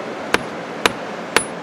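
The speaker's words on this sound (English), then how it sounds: "if all you happen to have is a hammer" Hammer blows on steel cable being cut, three sharp metallic strikes evenly spaced about half a second apart, loud and close over a faint background hiss.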